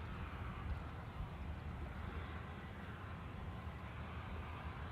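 A steady, loud broadband roar from an aircraft landing on runway 16 right at Sydney Airport, close and sustained for the whole stretch with no talk over it.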